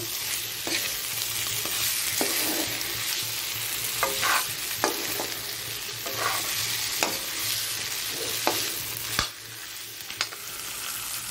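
Crab and potato chutney gravy stirred in a frying pan, an ongoing sizzle broken by repeated scraping spoon strokes at an irregular rhythm, close and clear with no speech.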